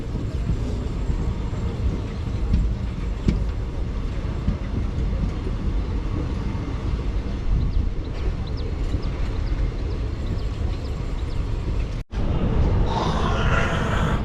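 Passenger train rumbling into Erode Junction, a steady low roar with faint rail clatter throughout, then a sudden cut to a brighter, hissing passage near the end.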